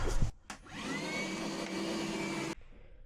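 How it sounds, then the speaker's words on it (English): A vacuum cleaner whirs into a loud, steady drone close by, holds for about two seconds, then cuts off abruptly. "Oh, this vacuum is nice."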